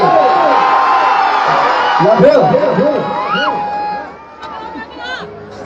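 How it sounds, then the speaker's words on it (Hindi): An audience at a live stage show cheers and whoops loudly as a crowd, a steady roar of voices with an announcer talking over it. "भैया के लिए एक जोरदार ताली से स्वागत करिए आप सब। अरे हल्ला करके करो पहले"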